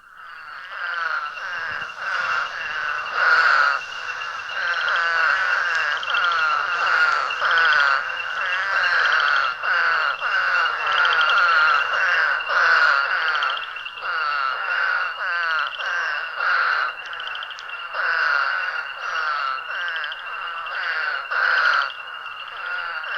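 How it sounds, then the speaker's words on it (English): A dense, loud chorus of spadefoot toads and ornate chorus frogs calls on a night in eastern North America, with overlapping rapid pulsed calls and a steady high whistle-like tone running throughout. "Here, spadefoots are heard with ornate chorus frogs."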